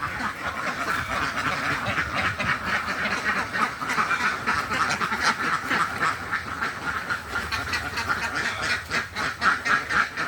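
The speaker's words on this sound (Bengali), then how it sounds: "আর সামনে আছে হলো বগ, হাঁস।" Dense chorus of many ducks quacking nonstop on a combined duck and fish farm, loud and close, with overlapping calls filling the whole stretch and no talk.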